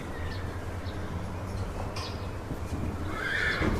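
A horse whinnies near the end over a low, steady background rumble, with a few faint snorts and movements before it.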